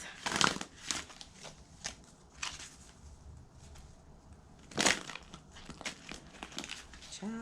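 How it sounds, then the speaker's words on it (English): Large tarot cards shuffled by hand at close range, giving uneven bursts of papery riffling and crinkling with quieter handling noise between them. "I am shuffling terribly with these cards today. With these big old cards, because I have small hands."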